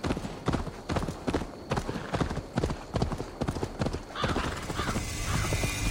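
Horse hooves clip-clop in a steady rhythmic trot in Assassin's Creed Valhalla near a farm, loud and close, with a neigh rising toward the end.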